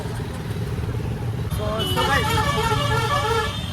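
Heavy traffic on the crowded Ajay bridge, with engines rumbling and repeated horn toots from motorbikes and other vehicles. A person talks over the close, busy din.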